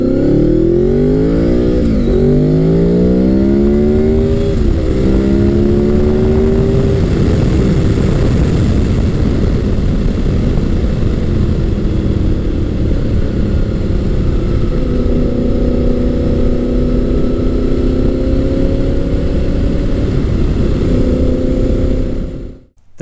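A 5th generation Honda VFR800 sportbike being ridden, its engine revving up and down through repeated gear changes with loud, close, continuous drone and rising pitch sweeps, ending abruptly.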